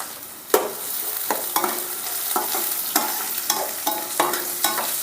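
Chopped onion and garlic hit hot oil with mustard seeds, giving a steady close sizzle with repeated stirring scrapes at an uneven rhythm and no voices.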